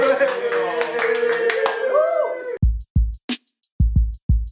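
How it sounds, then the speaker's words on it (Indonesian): A voice is followed by a series of sharp, separate hand claps, irregularly spaced and close by, standing out against near silence. "Tepuk tangan dulu dong."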